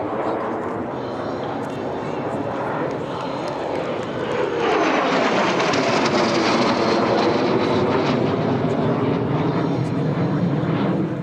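A jet aircraft engine roars steadily at an airshow, swelling louder midway as it passes close overhead, with a voice speaking faintly underneath.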